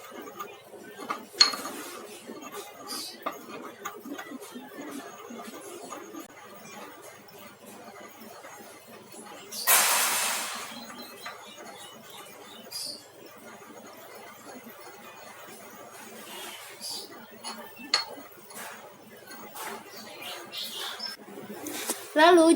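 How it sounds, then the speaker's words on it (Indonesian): A pestle stirs glyceryl guaiacolate in a pharmacy mortar while powders are mixed, giving soft scraping and light clinking strokes with one sharp scrape midway, under a voice talking throughout. "masukkan glycerilis guaicolat ke dalam mortir. Diaduk hingga homogen."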